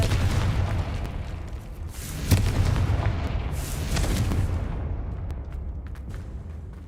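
A Confringo fire-blast spell cast in Hogwarts Legacy, heard as deep, rumbling booms and crackling bursts in quick succession, loud and close amid continuous game action, with no speech.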